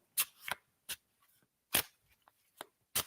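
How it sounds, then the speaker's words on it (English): A deck of cards is shuffled by hand in a few separate sharp riffles and snaps, close and crisp, with quiet gaps between them. "so I'm just shuffling these now as you concentrate"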